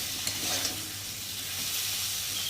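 Ginger and spice masala fry in a pan for ghugni with a soft, continuous sizzle and light hiss, quiet and close, with no talking.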